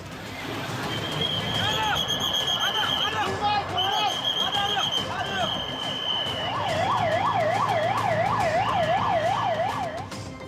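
Wailing emergency sirens from fire brigade and ambulance vehicles responding to a plane crash in a residential area of Ahmedabad, several overlapping sweeping tones rising and falling continuously, loud and close amid busy crowd noise and voices.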